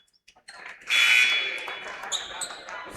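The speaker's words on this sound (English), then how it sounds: "And there is the buzzer." A long electronic buzzer sounds at the end of a period in a girls' JV high school basketball game in a gym, a loud sustained tone over crowd noise and squeaking shoes.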